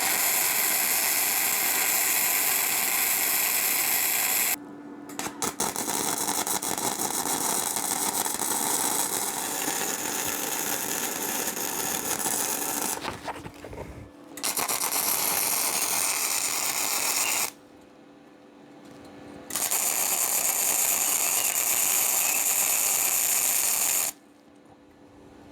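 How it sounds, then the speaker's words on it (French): A MIG welder running gasless flux-core wire on 5 mm steel with a VEVOR MIG-250 multi-process machine, a loud steady crackling buzz broken by brief pauses between several welding runs, close up. "on va tester au MIG, sans gaz, de l'acier de 5 mm d'épaisseur"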